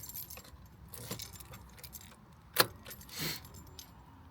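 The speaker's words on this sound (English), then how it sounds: "But if I put the keys in" Keys jangle softly inside a car as they are fitted into the ignition, with a quiet rustle followed by a sharp metallic clink and a brief rattle, all close by and low in level.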